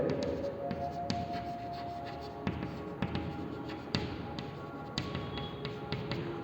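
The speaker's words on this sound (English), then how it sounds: "Clearly I am writing that word also." Chalk or marker taps and scrapes on a board during a mathematics lecture, sharp irregular clicks and short strokes heard close and faint against quiet room tone.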